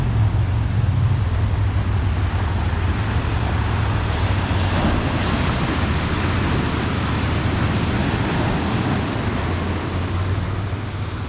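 Atlantic Ocean surf at a Florida beach near Ormond Beach makes a loud, unbroken roar of breaking waves, close and constant with wind across the microphone and no talking.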